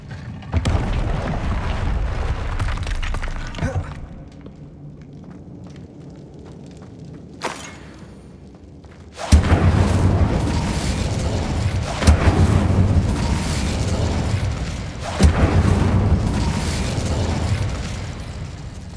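Incendio fire spell blasts in Hogwarts Legacy, several loud booming bursts with whooshing fiery tails, separated by a quiet lull and then a dense run of explosive hits close together.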